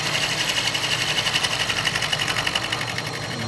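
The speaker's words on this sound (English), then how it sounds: "here we are making the final cut" Small metalworking machine tool cutting a shoulder for a mounting bolt on a Quorn tool grinder work head base, a steady rapid mechanical chatter pulsing evenly, close and fairly loud without speech.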